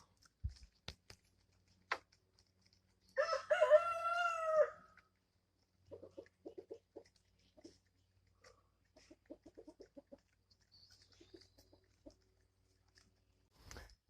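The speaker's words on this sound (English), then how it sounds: "We moved the little baby chickens outside" Backyard chickens, including small young birds, make scattered soft clucks and clicks, with a single rooster crow rising clearly in the middle; the scene is quiet and calm, with no talking.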